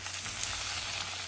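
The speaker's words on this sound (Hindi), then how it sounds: "और सीधा ही ये तड़का आपने डाल देना है आलूओं के ऊपर।" Hot tempering for a vrat recipe poured over frying potatoes in a pan, giving a steady, close, loud sizzle that holds evenly for the whole moment without any voices.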